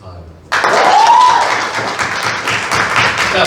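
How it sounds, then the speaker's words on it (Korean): A crowd bursts into sustained, loud applause at a press training session. The clapping starts suddenly and holds steady to the end, with voices mixed in. "우리 친구가 의사가 될 수 있도록 여러분들의 박수가 이게 하나의 에너지가 되는 거거든요"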